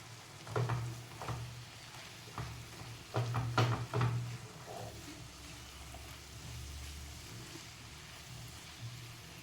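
A spoon stirs spices into a green turmeric curry in a pan, giving a few louder scraping bursts over a soft, continuous sizzle.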